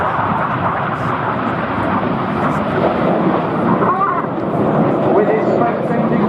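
Red Arrows jets roar overhead during the Gypo break at an air display, a loud, steady, broad rumble filling the whole stretch, with a voice commentating over it.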